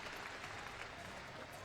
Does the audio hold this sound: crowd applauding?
yes